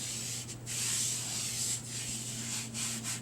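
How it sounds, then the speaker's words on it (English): Light hand sanding over fresh plaster in a basement remodel of a low-level split ranch, a steady soft rubbing scrape that runs continuously with brief pauses, close and quiet. "A very light sanding done."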